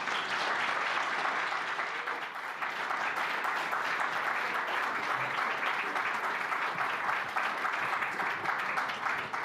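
Sustained audience applause welcoming the speaker at a memorial lecture at USF, a dense, steady wash of many hands clapping at even loudness from start to finish, with no voices rising above it.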